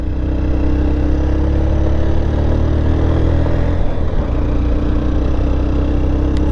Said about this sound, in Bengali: এই মোটরসাইকেল